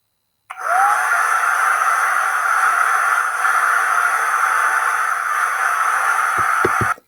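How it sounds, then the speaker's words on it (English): A steady, loud broadband whoosh of a hair dryer blowing for several seconds, cutting off abruptly with a few soft knocks near the end. "It was a hair dryer."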